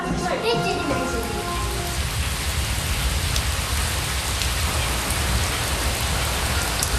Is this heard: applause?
no